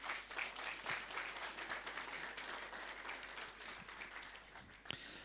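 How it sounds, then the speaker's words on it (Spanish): Audience in a Sunday church service clapping together in a sustained round of applause, dense and steady, fading slightly toward the end. "Una vez más, por favor, vamos a dar fuertes aplausos."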